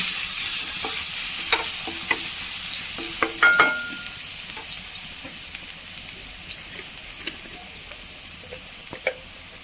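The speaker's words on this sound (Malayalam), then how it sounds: "നമുക്കിതിലേക്ക് ആദ്യം വെളുത്തുള്ളി ഇട്ട് കൊടുക്കാം ഒരു മൂന്നാലഞ്ച് വലിയ വെളുത്തുള്ളിയ ഇട്ട് കൊടുക്കാം ഒന്ന് മൂത്ത് വരട്ടെ" Large garlic cloves frying in a pan, with a steady close sizzle and a few sharp taps and scrapes of a utensil scattered through it.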